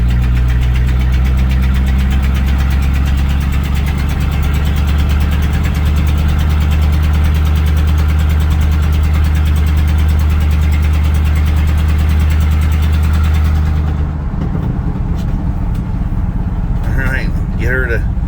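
A 1984 Chevrolet C10 pickup truck idles after a cold start with a loud, steady, rumbling drone that drops off near the end, followed by a brief voice.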